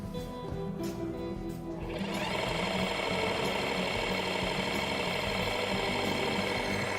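A Junker vibration test machine starts up on a bolted joint fitted with a HYTORC J-Washer. A quieter hum gives way after about two seconds to a loud, continuous, rattling mechanical drone that holds steady to the end.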